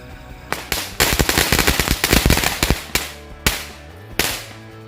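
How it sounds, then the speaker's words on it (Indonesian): A whole pack of match firecrackers (mercon korek) set off at once, loud rapid crackling bursts crowding together for a couple of seconds, then a few separate sharp bangs trailing off, near and with no voices. "kita nyalain mercon korek 1 gepok sekaligus"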